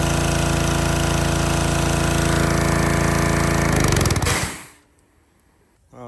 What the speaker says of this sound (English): It's a pressure washer.